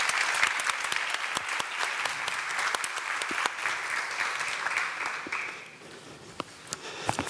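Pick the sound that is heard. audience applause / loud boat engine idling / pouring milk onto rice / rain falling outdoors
audience applause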